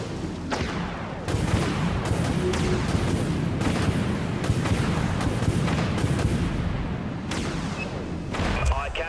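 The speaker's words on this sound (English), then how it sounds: "Launching torpedoes." Torpedoes launch in the space combat video game Dreadnought amid a loud, continuous roar of heavy booming weapon fire that sustains for several seconds, with sharper blasts at the start and end.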